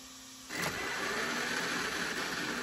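An RC car's electric motor spins up suddenly as the throttle trim is turned up, jumping from near quiet to a steady buzzing whir that holds at an even pitch.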